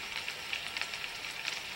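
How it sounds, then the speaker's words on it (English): A frying bacon sound effect used for acid eating away at zombies: a steady crackling sizzle with scattered pops running throughout at moderate level, ending in a louder burst. "the acid is going to be eating the zombies, so you got to have some frying bacon sound"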